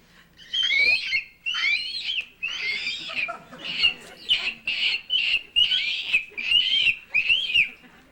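A person imitates the call of a killdeer, producing a series of about nine loud, shrill whistled notes, each roughly half a second long, with short gaps between them, close and clear.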